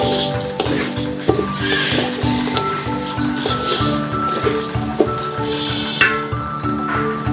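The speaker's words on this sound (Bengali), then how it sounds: "পোলাওর চালটা একটু ভেজে নিলে রাইসটা ঝরঝরে থাকে আর খেতেও টেস্ট হয়। ভালো করে ভেজে নেব।" Polao rice sizzles and rustles steadily in a pot as it is fried and stirred, with a continuous crackling texture, while music plays over it.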